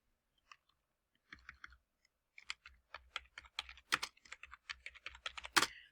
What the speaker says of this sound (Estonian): Kui ma avan 2 hiireklikiga selle tekstidokumendi, siis siia juurde trükkides